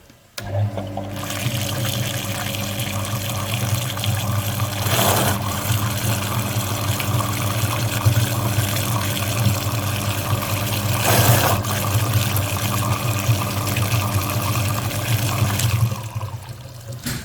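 Pump flushing the heater radiator circuit of a VW T4 cooling system during repair, a steady close rush of circulating water with constant hum, running continuously, without talk.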